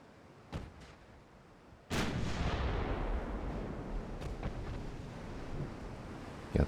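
Naval turret guns fire in the Ultimate Admirals: Dreadnoughts game, with a faint shot early on and then a heavy boom that rolls into a long, loud rumbling decay, with further distant reports.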